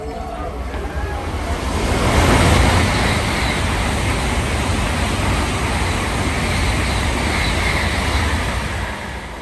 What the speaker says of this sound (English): a little video that I took while we were waiting of a bullet train that came by